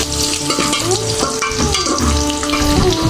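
Masala and onions frying for vegetable biryani, a loud, continuous sizzle close up with the rhythmic scrape and clatter of stirring throughout, no voices.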